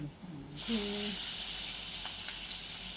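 Crushed garlic, seven or eight cloves, and asafoetida hitting hot oil in a home kitchen for a Marathi chickpea bhaji: a voice speaks briefly, then a loud, steady sizzle bursts in and carries on to the end.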